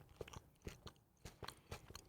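Close, quiet chewing of crunchy potato chip Reese's peanut butter cups, with a steady rhythm of sharp crunching bites and softer mashing between them and no talk.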